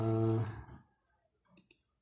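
A computer mouse clicks twice in quick succession, faint and close, while someone works in ArcGIS. A brief voice-like tone comes just before the clicks.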